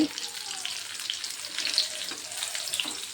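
Banana flower chops deep-frying in hot oil over a medium gas flame, giving a steady close bubbling sizzle with faint crackles and light clinks throughout.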